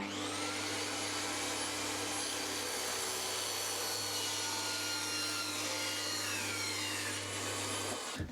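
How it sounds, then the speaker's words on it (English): A table saw runs steadily for about eight seconds as it trims the last piece off a large panel: a loud, constant motor hum under a harsh, even cutting whine, ending abruptly as the cut finishes. "pull this whole thing back, raise the blade and trim off this last piece"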